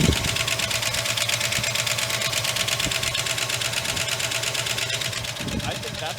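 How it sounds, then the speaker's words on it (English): A 1962 Oldsmobile 98 engine idles steadily on a cold morning, with a fast, even ticking of valve train noise riding over the low rumble, close and continuous throughout. "She's idling. Got a little bit of a valve train noise"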